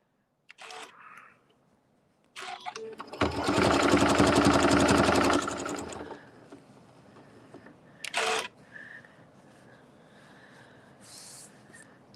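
A sewing machine runs in one sustained loud burst of rapid stitching while quilting a holiday wreath, framed by short clicks and handling knocks before and after, with no talk.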